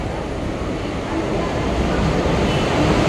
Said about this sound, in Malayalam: Aluva railway station platform number 3 train എത്തി